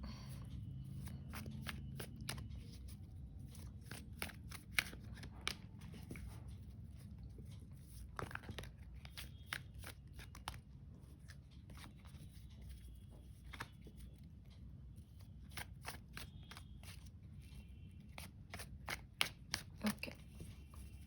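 Tarot cards shuffled by hand before a three-card pull, heard as a long run of soft, close riffling clicks and flutters in irregular bursts over a quiet background.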